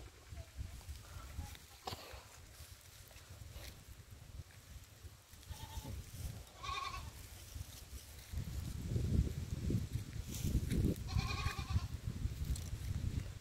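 Several goats bleat on and off from a pen over a steady background of rustling and low rumble, some cries nearer and louder than others.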